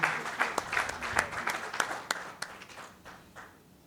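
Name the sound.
audience round of applause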